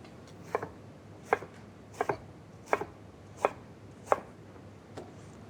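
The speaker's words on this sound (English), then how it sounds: "So now what we do is cut them into chunks." Knife cutting peeled aubergine into chunks on a board, six crisp evenly spaced thuds, each a quick double knock, close and clear with no speech.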